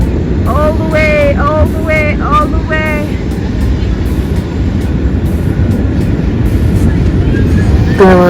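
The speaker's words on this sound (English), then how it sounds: "Look at the train. The train is so long." A long train rolls past along the Hudson River with a steady, loud rumble, while people chatter over it and a few rising tonal whines sound early on.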